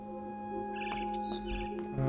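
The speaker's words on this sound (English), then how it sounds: "Then I heard chirping outside my window." A barn swallow chirps outside a window in the game What Remains of Edith Finch, with a few faint, quick tweets over a soft humming ambient backdrop.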